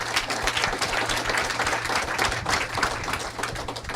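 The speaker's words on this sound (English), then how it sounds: "Let's give her a big round of applause." An audience applauds steadily, a dense wash of many hands clapping throughout without pause, fairly close and even in loudness.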